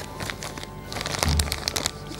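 Plastic piping bag filled with chocolate-mixed cream crinkles and crunches in the hands while being readied to fill choux pastry, a close, soft rustle with a brief thump partway through.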